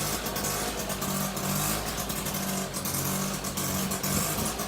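A Motobecane moped engine runs steadily just above idle, a continuous close, loud putter with slight surges and no voices over it.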